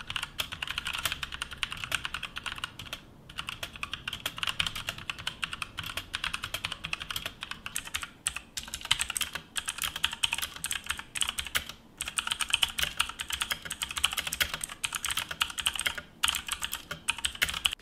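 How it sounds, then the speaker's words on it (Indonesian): Fast, steady typing on a Tecware Phantom 87 mechanical keyboard gives a dense run of crisp, close key clacks with a few short pauses, heard alone without any talking. "Jadi sekarang saya akan buat satu typing test untuk you guys."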